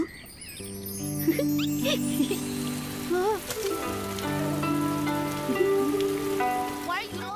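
Rain patters on surfaces in an animated Buddhist film, a steady soft hiss beneath prominent melodic music with sliding tones.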